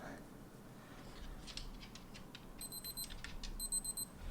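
A Casio ABL-100 watch timer goes off in two short bursts of quick, high-pitched beeping, fairly faint against quiet room noise.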